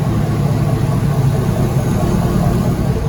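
A freshly rebuilt car engine, replaced after being destroyed, runs steadily at a loud, close idle, a continuous low rumble with no talking over it.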